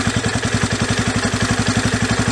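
A Raptor engine idles steadily after carburetor adjustment, its close, loud exhaust chugging in a fast even pulse with a mechanical clatter throughout.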